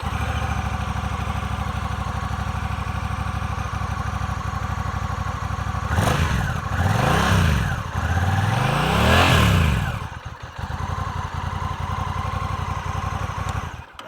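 A 2025 Honda Rebel 1100T DCT motorcycle with its stock exhaust idles with a low, even burble, then revs sharply several times in quick bursts before settling back to idle, close and loud.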